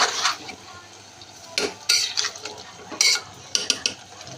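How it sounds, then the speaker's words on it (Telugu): Marinated broiler chicken stirred and frying uncovered in a pot, with scraping spoon strokes and clinks against the metal over a low steady sizzle, close and moderately loud. "మూత పెట్టకుండా ఇలా ఫ్రై చేసుకుంటూ ఉండాలి వాటర్ రిలీజ్ అయ్యే వరకు"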